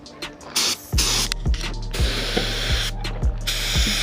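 Aerosol spray paint hisses in repeated short bursts as a BMW E65 750i part is coated jet black at home, each close, loud blast separated by brief pauses and faint clicks.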